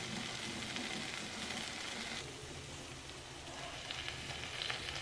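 Spicy chicken fry with pepper cooking on a low flame, a soft continuous crackling sizzle with occasional stirring, quiet and even throughout.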